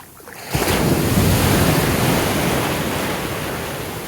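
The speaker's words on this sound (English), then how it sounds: "look at these waves. Look at this wave." A wave crashes onto the shore at Cartagena, Colombia, with a loud roar, then a long hissing wash that slowly fades, mixed with wind noise.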